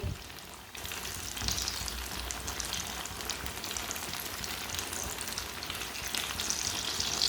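Chicken kebabs sizzle steadily in a hot pan, a continuous crackling fry at moderate, close volume with no voices over it.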